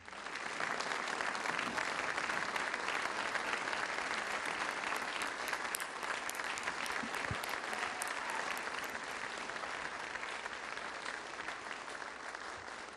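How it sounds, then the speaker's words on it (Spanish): Standing applause fills a solemn session of the Venezuelan parliament, a dense, sustained crowd of clapping hands that holds steady for the whole stretch and eases only slightly toward the end. "pido un aplauso de pie para nuestro orador de orden"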